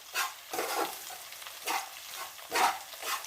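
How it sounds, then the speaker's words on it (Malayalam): Kashmiri chili powder stirred in hot oil in a pan, a close rhythmic series of sizzling scrapes in repeated strokes, each swelling and fading, with no talk. "നല്ല ഒന്ന് ഇളക്കി കൊടുക്കും"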